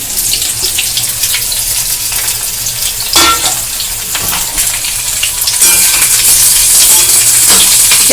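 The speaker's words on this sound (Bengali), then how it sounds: "তেলেতে পেঁয়াজগুলো দিয়ে দিলাম।" Roughly chopped onions frying in hot oil for a restaurant-style gravy, giving a steady close sizzle with stirring scrapes and a brief burst near the middle, growing louder and brighter toward the end, with no talk.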